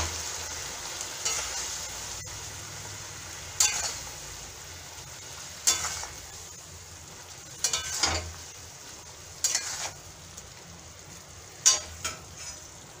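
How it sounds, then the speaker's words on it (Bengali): Raw mango pickle bubbling in sugar syrup in a pan, a low steady simmer under repeated sharp scraping strokes of a spoon stirring, spaced every couple of seconds, fairly quiet and close. "এভাবে কিছুক্ষণ আমি ফুটতে দেব, আমটা সিদ্ধ হয়ে যাবে আর রসটা আরেকটু ঘন হয়ে আসবে।"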